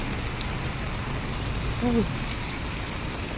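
Heavy rain pours steadily over a city walkway near an office building, making a dense, constant hiss. A brief low tone rises out of it near the middle.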